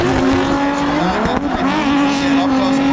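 Drift race cars chasing each other around a track at a competition, with engines roaring loudly and continuously and tires squealing under sustained high revs, heard from close by.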